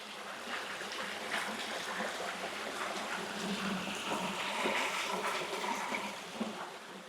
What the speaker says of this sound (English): So I will leave you with the sounds until tomorrow of the Housatonic River.